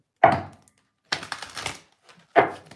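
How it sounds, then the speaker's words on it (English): Oracle cards dropping onto the floor while being shuffled: three separate sharp slapping thuds, close and fairly loud, with quiet pauses between them. "2 cards fell, but I don't read cards that fall on the floor"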